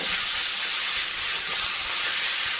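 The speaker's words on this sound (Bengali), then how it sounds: "এখন কেটে রাখা লাউ এর মধ্যে দিয়ে দিলাম।" Chopped bottle gourd dropped into hot oil with fried spices, giving a loud, steady, broadband hiss of sizzling that fills the whole stretch at close range.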